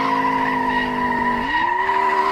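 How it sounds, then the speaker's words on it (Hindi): Car drifting in the Indian Theft Auto video game, a modified Porsche: a loud, steady tire squeal over engine hum that shifts upward in pitch about halfway through, with no talk. "भाई ड्रिफ्ट बहुत ख़तरनाक लगती है इसकी"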